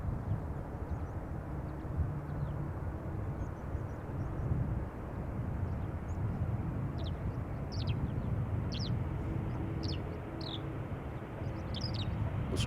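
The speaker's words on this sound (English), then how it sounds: "Also hearing birds chirp." Small birds chirp in scattered short calls over a steady roar of aircraft at Amsterdam Schiphol Airport, the chirps growing more frequent in the second half.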